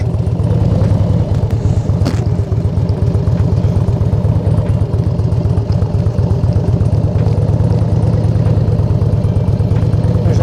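A motorcycle rolls at very low speed during a balance exercise, its engine putting out a steady, close, loud chugging throb with a clattering pulse and no voices.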